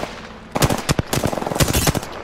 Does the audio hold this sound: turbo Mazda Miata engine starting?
no